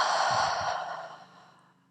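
A yoga instructor's long, breathy exhale during a full-body stretch session, close and clear, tapering off gradually over about two seconds.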